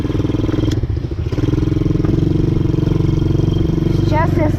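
Quad bike (ATV) engine running steadily while riding in a forest in May, a loud continuous close drone with some clatter and bumps over the ground.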